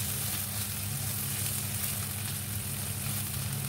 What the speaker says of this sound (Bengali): কড়াইতে পরিমাণ মতো তেল দিয়ে তার মধ্যে পেঁয়াজ কুচি, সাথে আমি রসুন কুচিও এখানে দিয়ে দিয়েছি